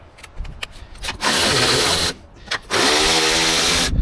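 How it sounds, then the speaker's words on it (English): Power tool on a Nissan Altima loosening motor-mount bracket bolts, in two sustained loud bursts of whirring separated by short pauses and lighter clicks. "this bracket, we're going to loosen these bolts here"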